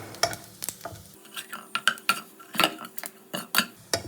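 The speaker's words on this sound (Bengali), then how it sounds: "এই ফোড়নটা আমি ভালো করে ভেজে নেব।" Dry red chili and nigella seeds fry in hot oil in a pan as a tempering for a koi fish curry: a soft sizzle runs under repeated sharp metal utensil clinks and scrapes against the pan.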